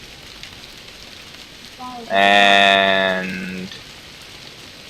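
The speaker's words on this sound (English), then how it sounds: "It's raining." Rain in the DrizzlePath video game gives a soft, even hiss throughout, briefly covered by a loud, bright tonal chime lasting about a second and a half in the middle.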